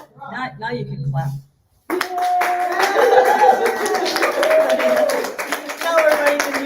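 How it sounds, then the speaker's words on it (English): Audience clapping at a Sunday spiritual gathering, a dense, steady burst of hands that starts abruptly after a short silence and runs to the end, with voices and tonal sounds mixed in. A voice speaks before the clapping begins. "Now you can clap."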